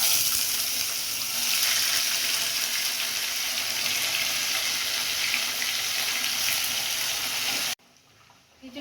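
Carrots go into a hot pan of oil and fry with a close, loud, steady sizzle that carries on evenly, then cuts off abruptly near the end, leaving a faint rustle.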